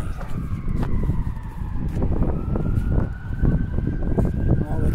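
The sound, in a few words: emergency vehicle sirens in the city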